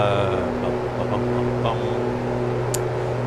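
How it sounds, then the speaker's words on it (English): A steady, droning twin-engine drone from an A2A Aerostar in Microsoft Flight Simulator, with a constant low hum and tonal bands holding at even loudness throughout, plus a brief faint tick near the end. "you can hear the engine noise"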